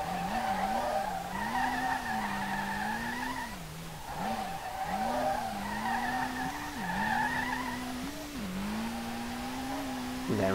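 A Nissan R32 drifts in the SLRR racing game, its engine holding a steady droning tone that dips and rises while the tires squeal continuously, with no talking.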